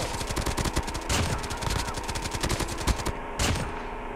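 Rapid automatic gunfire from the mobile shooter game Call of Duty Mobile, dense bursts of shots rattling on continuously with a brief pause near the end, loud and close.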